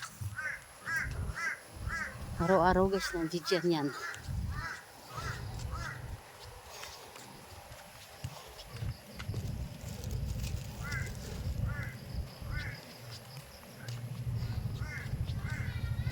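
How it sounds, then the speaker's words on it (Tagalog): Crows caw in repeated short bursts, fairly near, some calls coming in quick runs, while someone talks casually over them. "Yung mga uwak."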